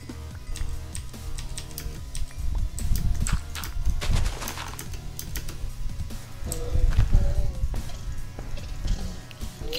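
A horse in the Minecraft video game clip-clops and snorts in short bursts, mixed with clicky game sounds and occasional faint talk.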